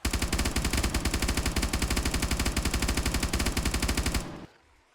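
A continuous rapid automatic weapon fires in 7 Days To Die, an unbroken fast stream of loud even shots for about four seconds before cutting off abruptly into quiet.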